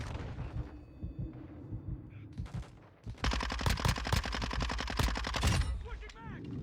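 Submachine gun fire in Warzone 2: a few scattered shots at first, then a sustained rapid automatic burst for about two seconds, loud and close, followed by a short tail.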